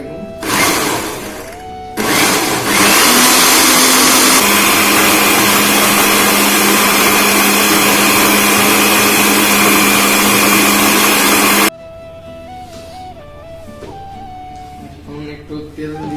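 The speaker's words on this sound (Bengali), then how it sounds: "এটা ব্লেন্ডার করে নেব।" An electric blender grinds burger ingredients in a home kitchen, a loud, steady whirring roar that runs for about nine seconds, with a short burst before it and quieter kitchen sounds afterward.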